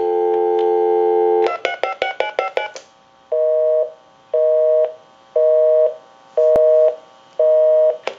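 Quick keypad tones dial a number on a repaired Spirit of St. Louis novelty telephone, then a busy signal repeats its even on-off beeps, loud and close.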